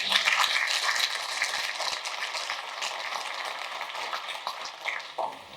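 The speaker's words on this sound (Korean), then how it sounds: "우리 최성재 의원께도 여러분들 큰 박수로" An audience at a policy forum applauds with dense, steady clapping that gradually thins out toward the end.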